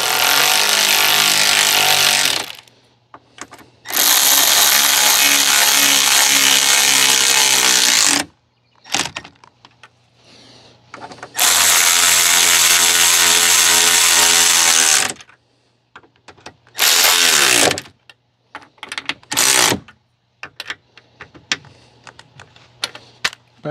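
A power tool tightens bolts on tow mirrors being fitted to a 2015 Chevrolet Silverado 1500: several long, loud, steady whirring bursts separated by pauses, then shorter stuttering spurts and light clicks near the end, with no talk.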